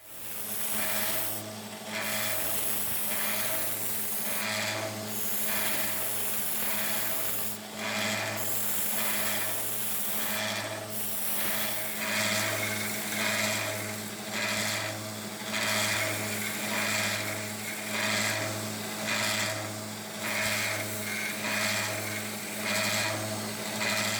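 Continuous sanding on a metal spade drill bit runs for a long stretch, a steady motor hum beneath rhythmic grinding strokes, fairly faint overall.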